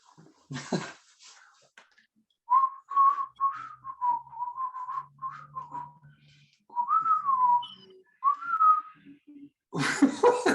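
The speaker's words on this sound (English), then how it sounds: "So I have to whistle this, correct?" A man whistles a song tune alone, a few phrases of wavering melodic notes with short pauses between them, close and moderately loud, with brief noise at the start and end.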